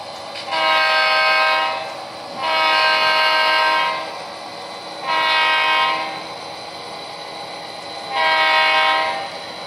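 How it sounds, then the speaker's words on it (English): A train horn on a model railroad layout sounds four loud, sustained chord blasts with short gaps between them during switching work, and no voices are heard. "I just blow the horn just for the heck of it"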